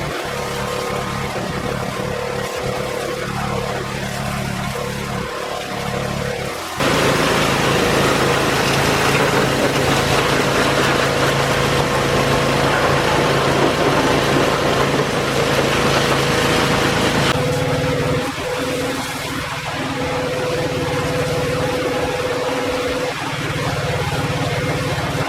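A pressure washer cleaning caked-on grime off truck control arms: a steady, loud motor-driven hiss and spray runs for a stretch, rising sharply when the high-pressure jet kicks in, then dropping back to an idling hum.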